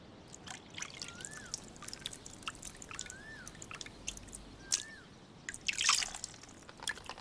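Water drips onto a leaf in scattered, irregular soft taps, some brighter and closer than others, over a faint hushed background with no voices.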